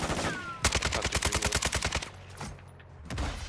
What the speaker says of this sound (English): the bot was shooting at him too